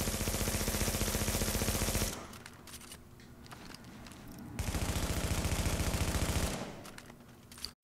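The House SMG in The Division, fitted with the Hurried talent, fires loud continuous bursts for about two seconds, falls quiet through a reload with soft clicks and handling, then unleashes another long automatic burst.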